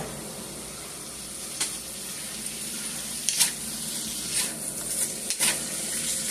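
Meat fries with onions and peppers for cheese steak fries, a steady close sizzle with occasional clicks and scrapes of a utensil in the pan, no voices over it.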